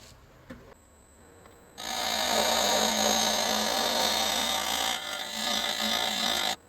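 Square carbide tool cutting a segmented wooden bowl spinning on a lathe, a steady loud scraping hiss that starts abruptly after a quiet moment, runs several seconds with a slight dip, then stops suddenly.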